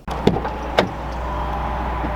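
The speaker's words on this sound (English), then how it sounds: "we do have a power sliding window here in the Chevy" Power sliding rear window on a 2021 Chevy 1500 LTZ pickup truck, a steady electric motor hum running with a couple of soft clunks near the start, heard close inside the cab.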